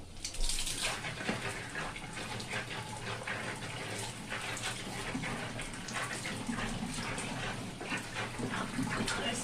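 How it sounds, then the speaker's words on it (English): Water from a tap gushes steadily onto fabric being soaked for tie-dyeing, a continuous close splashing with small shifts as the cloth is handled. "So let's just wet this fabric down and we will see how we go."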